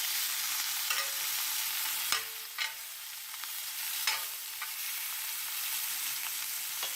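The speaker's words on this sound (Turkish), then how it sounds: "bu tereyağı sıvısıyla birlikte arkadaşlar Güzelce etin her tarafına değmesini istiyorum. Bu arada da biberiyelerimi de atıyorum içerisine." Beef tenderloin sears in a pan while melted butter and rosemary are spooned over it, a constant loud sizzle broken by a few sharp spattering pops and clinks, with no talking.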